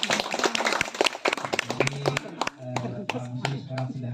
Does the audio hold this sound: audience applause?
yes